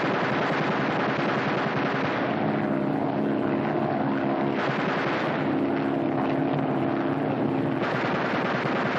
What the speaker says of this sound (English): Fire 3 bursts each in rotation.